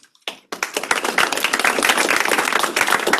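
An audience applauds a distinguished guest speaker at a university lecture series, the clapping rising suddenly after a brief pause and holding as a dense, steady patter of many hands.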